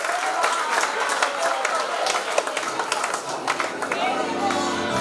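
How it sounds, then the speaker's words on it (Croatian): Wedding guests at a celebration that also marks a christening break into continuous applause, a dense crowd of claps mixed with chatter and voices throughout. "veliki aplauz za naše drage babice srdeće."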